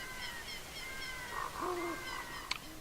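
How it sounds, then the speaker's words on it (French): An owl hoots in the video game Zelda Ocarina of Time, a soft, low hooting call over sustained tonal game music, with a brief sharp click near the end. "il y a le hibou qui va nous parler maintenant"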